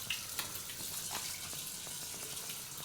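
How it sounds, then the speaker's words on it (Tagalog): Steady broadband rush of water from a hotel bathroom tap while hands are washed, with faint splashes and small knocks on top, continuous and fairly close with no talk. "Hugas na ako ng kamay ko, ha?"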